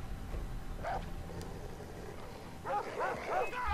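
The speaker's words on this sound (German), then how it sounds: "Vor allem machen mir die Hunde Sorgen." Dogs barking in the video game Far Cry 3, a couple of short yips and then a louder cluster of barks near the end, set against low game ambience at moderate distance.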